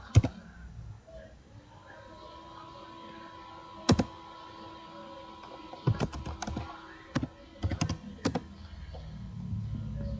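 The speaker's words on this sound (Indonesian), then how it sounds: "lalu teman-teman ketikkan" Keys on a computer keyboard are typed in scattered bursts and single clicks, sharp and close over a quiet room hum, with pauses between groups of strokes.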